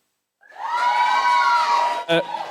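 A live studio audience at a comedy show breaks into sudden loud cheering and shouting that holds steady for about two seconds, with a brief sharp burst near the end.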